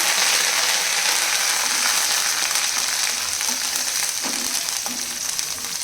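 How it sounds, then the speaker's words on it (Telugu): Curry leaves hiss and crackle as they go into hot oil for mango pickle with the stove just switched off, a strong, steady sizzle with scattered sharper pops that slowly settles. "ఇప్పుడు స్టవ్ ఆఫ్ చేసేసి జస్ట్ ఆఫ్ చేసేసి ముందు మనకు కావాల్సినంత కరివేపాకు వేసుకోండి"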